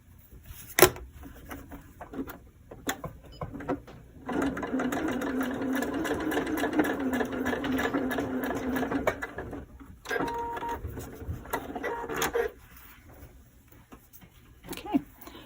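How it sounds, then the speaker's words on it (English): A sewing machine stitches the seam of a fabric bowl club bag in steady, close bursts, running continuously through the middle stretch and briefly again after a pause, with light handling noises between runs. "There's my next line to sew on."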